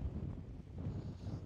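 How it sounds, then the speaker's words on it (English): Wind blows across a hilltop, buffeting the microphone in a steady low rumble, close and continuous with no talk. "It's windy up here"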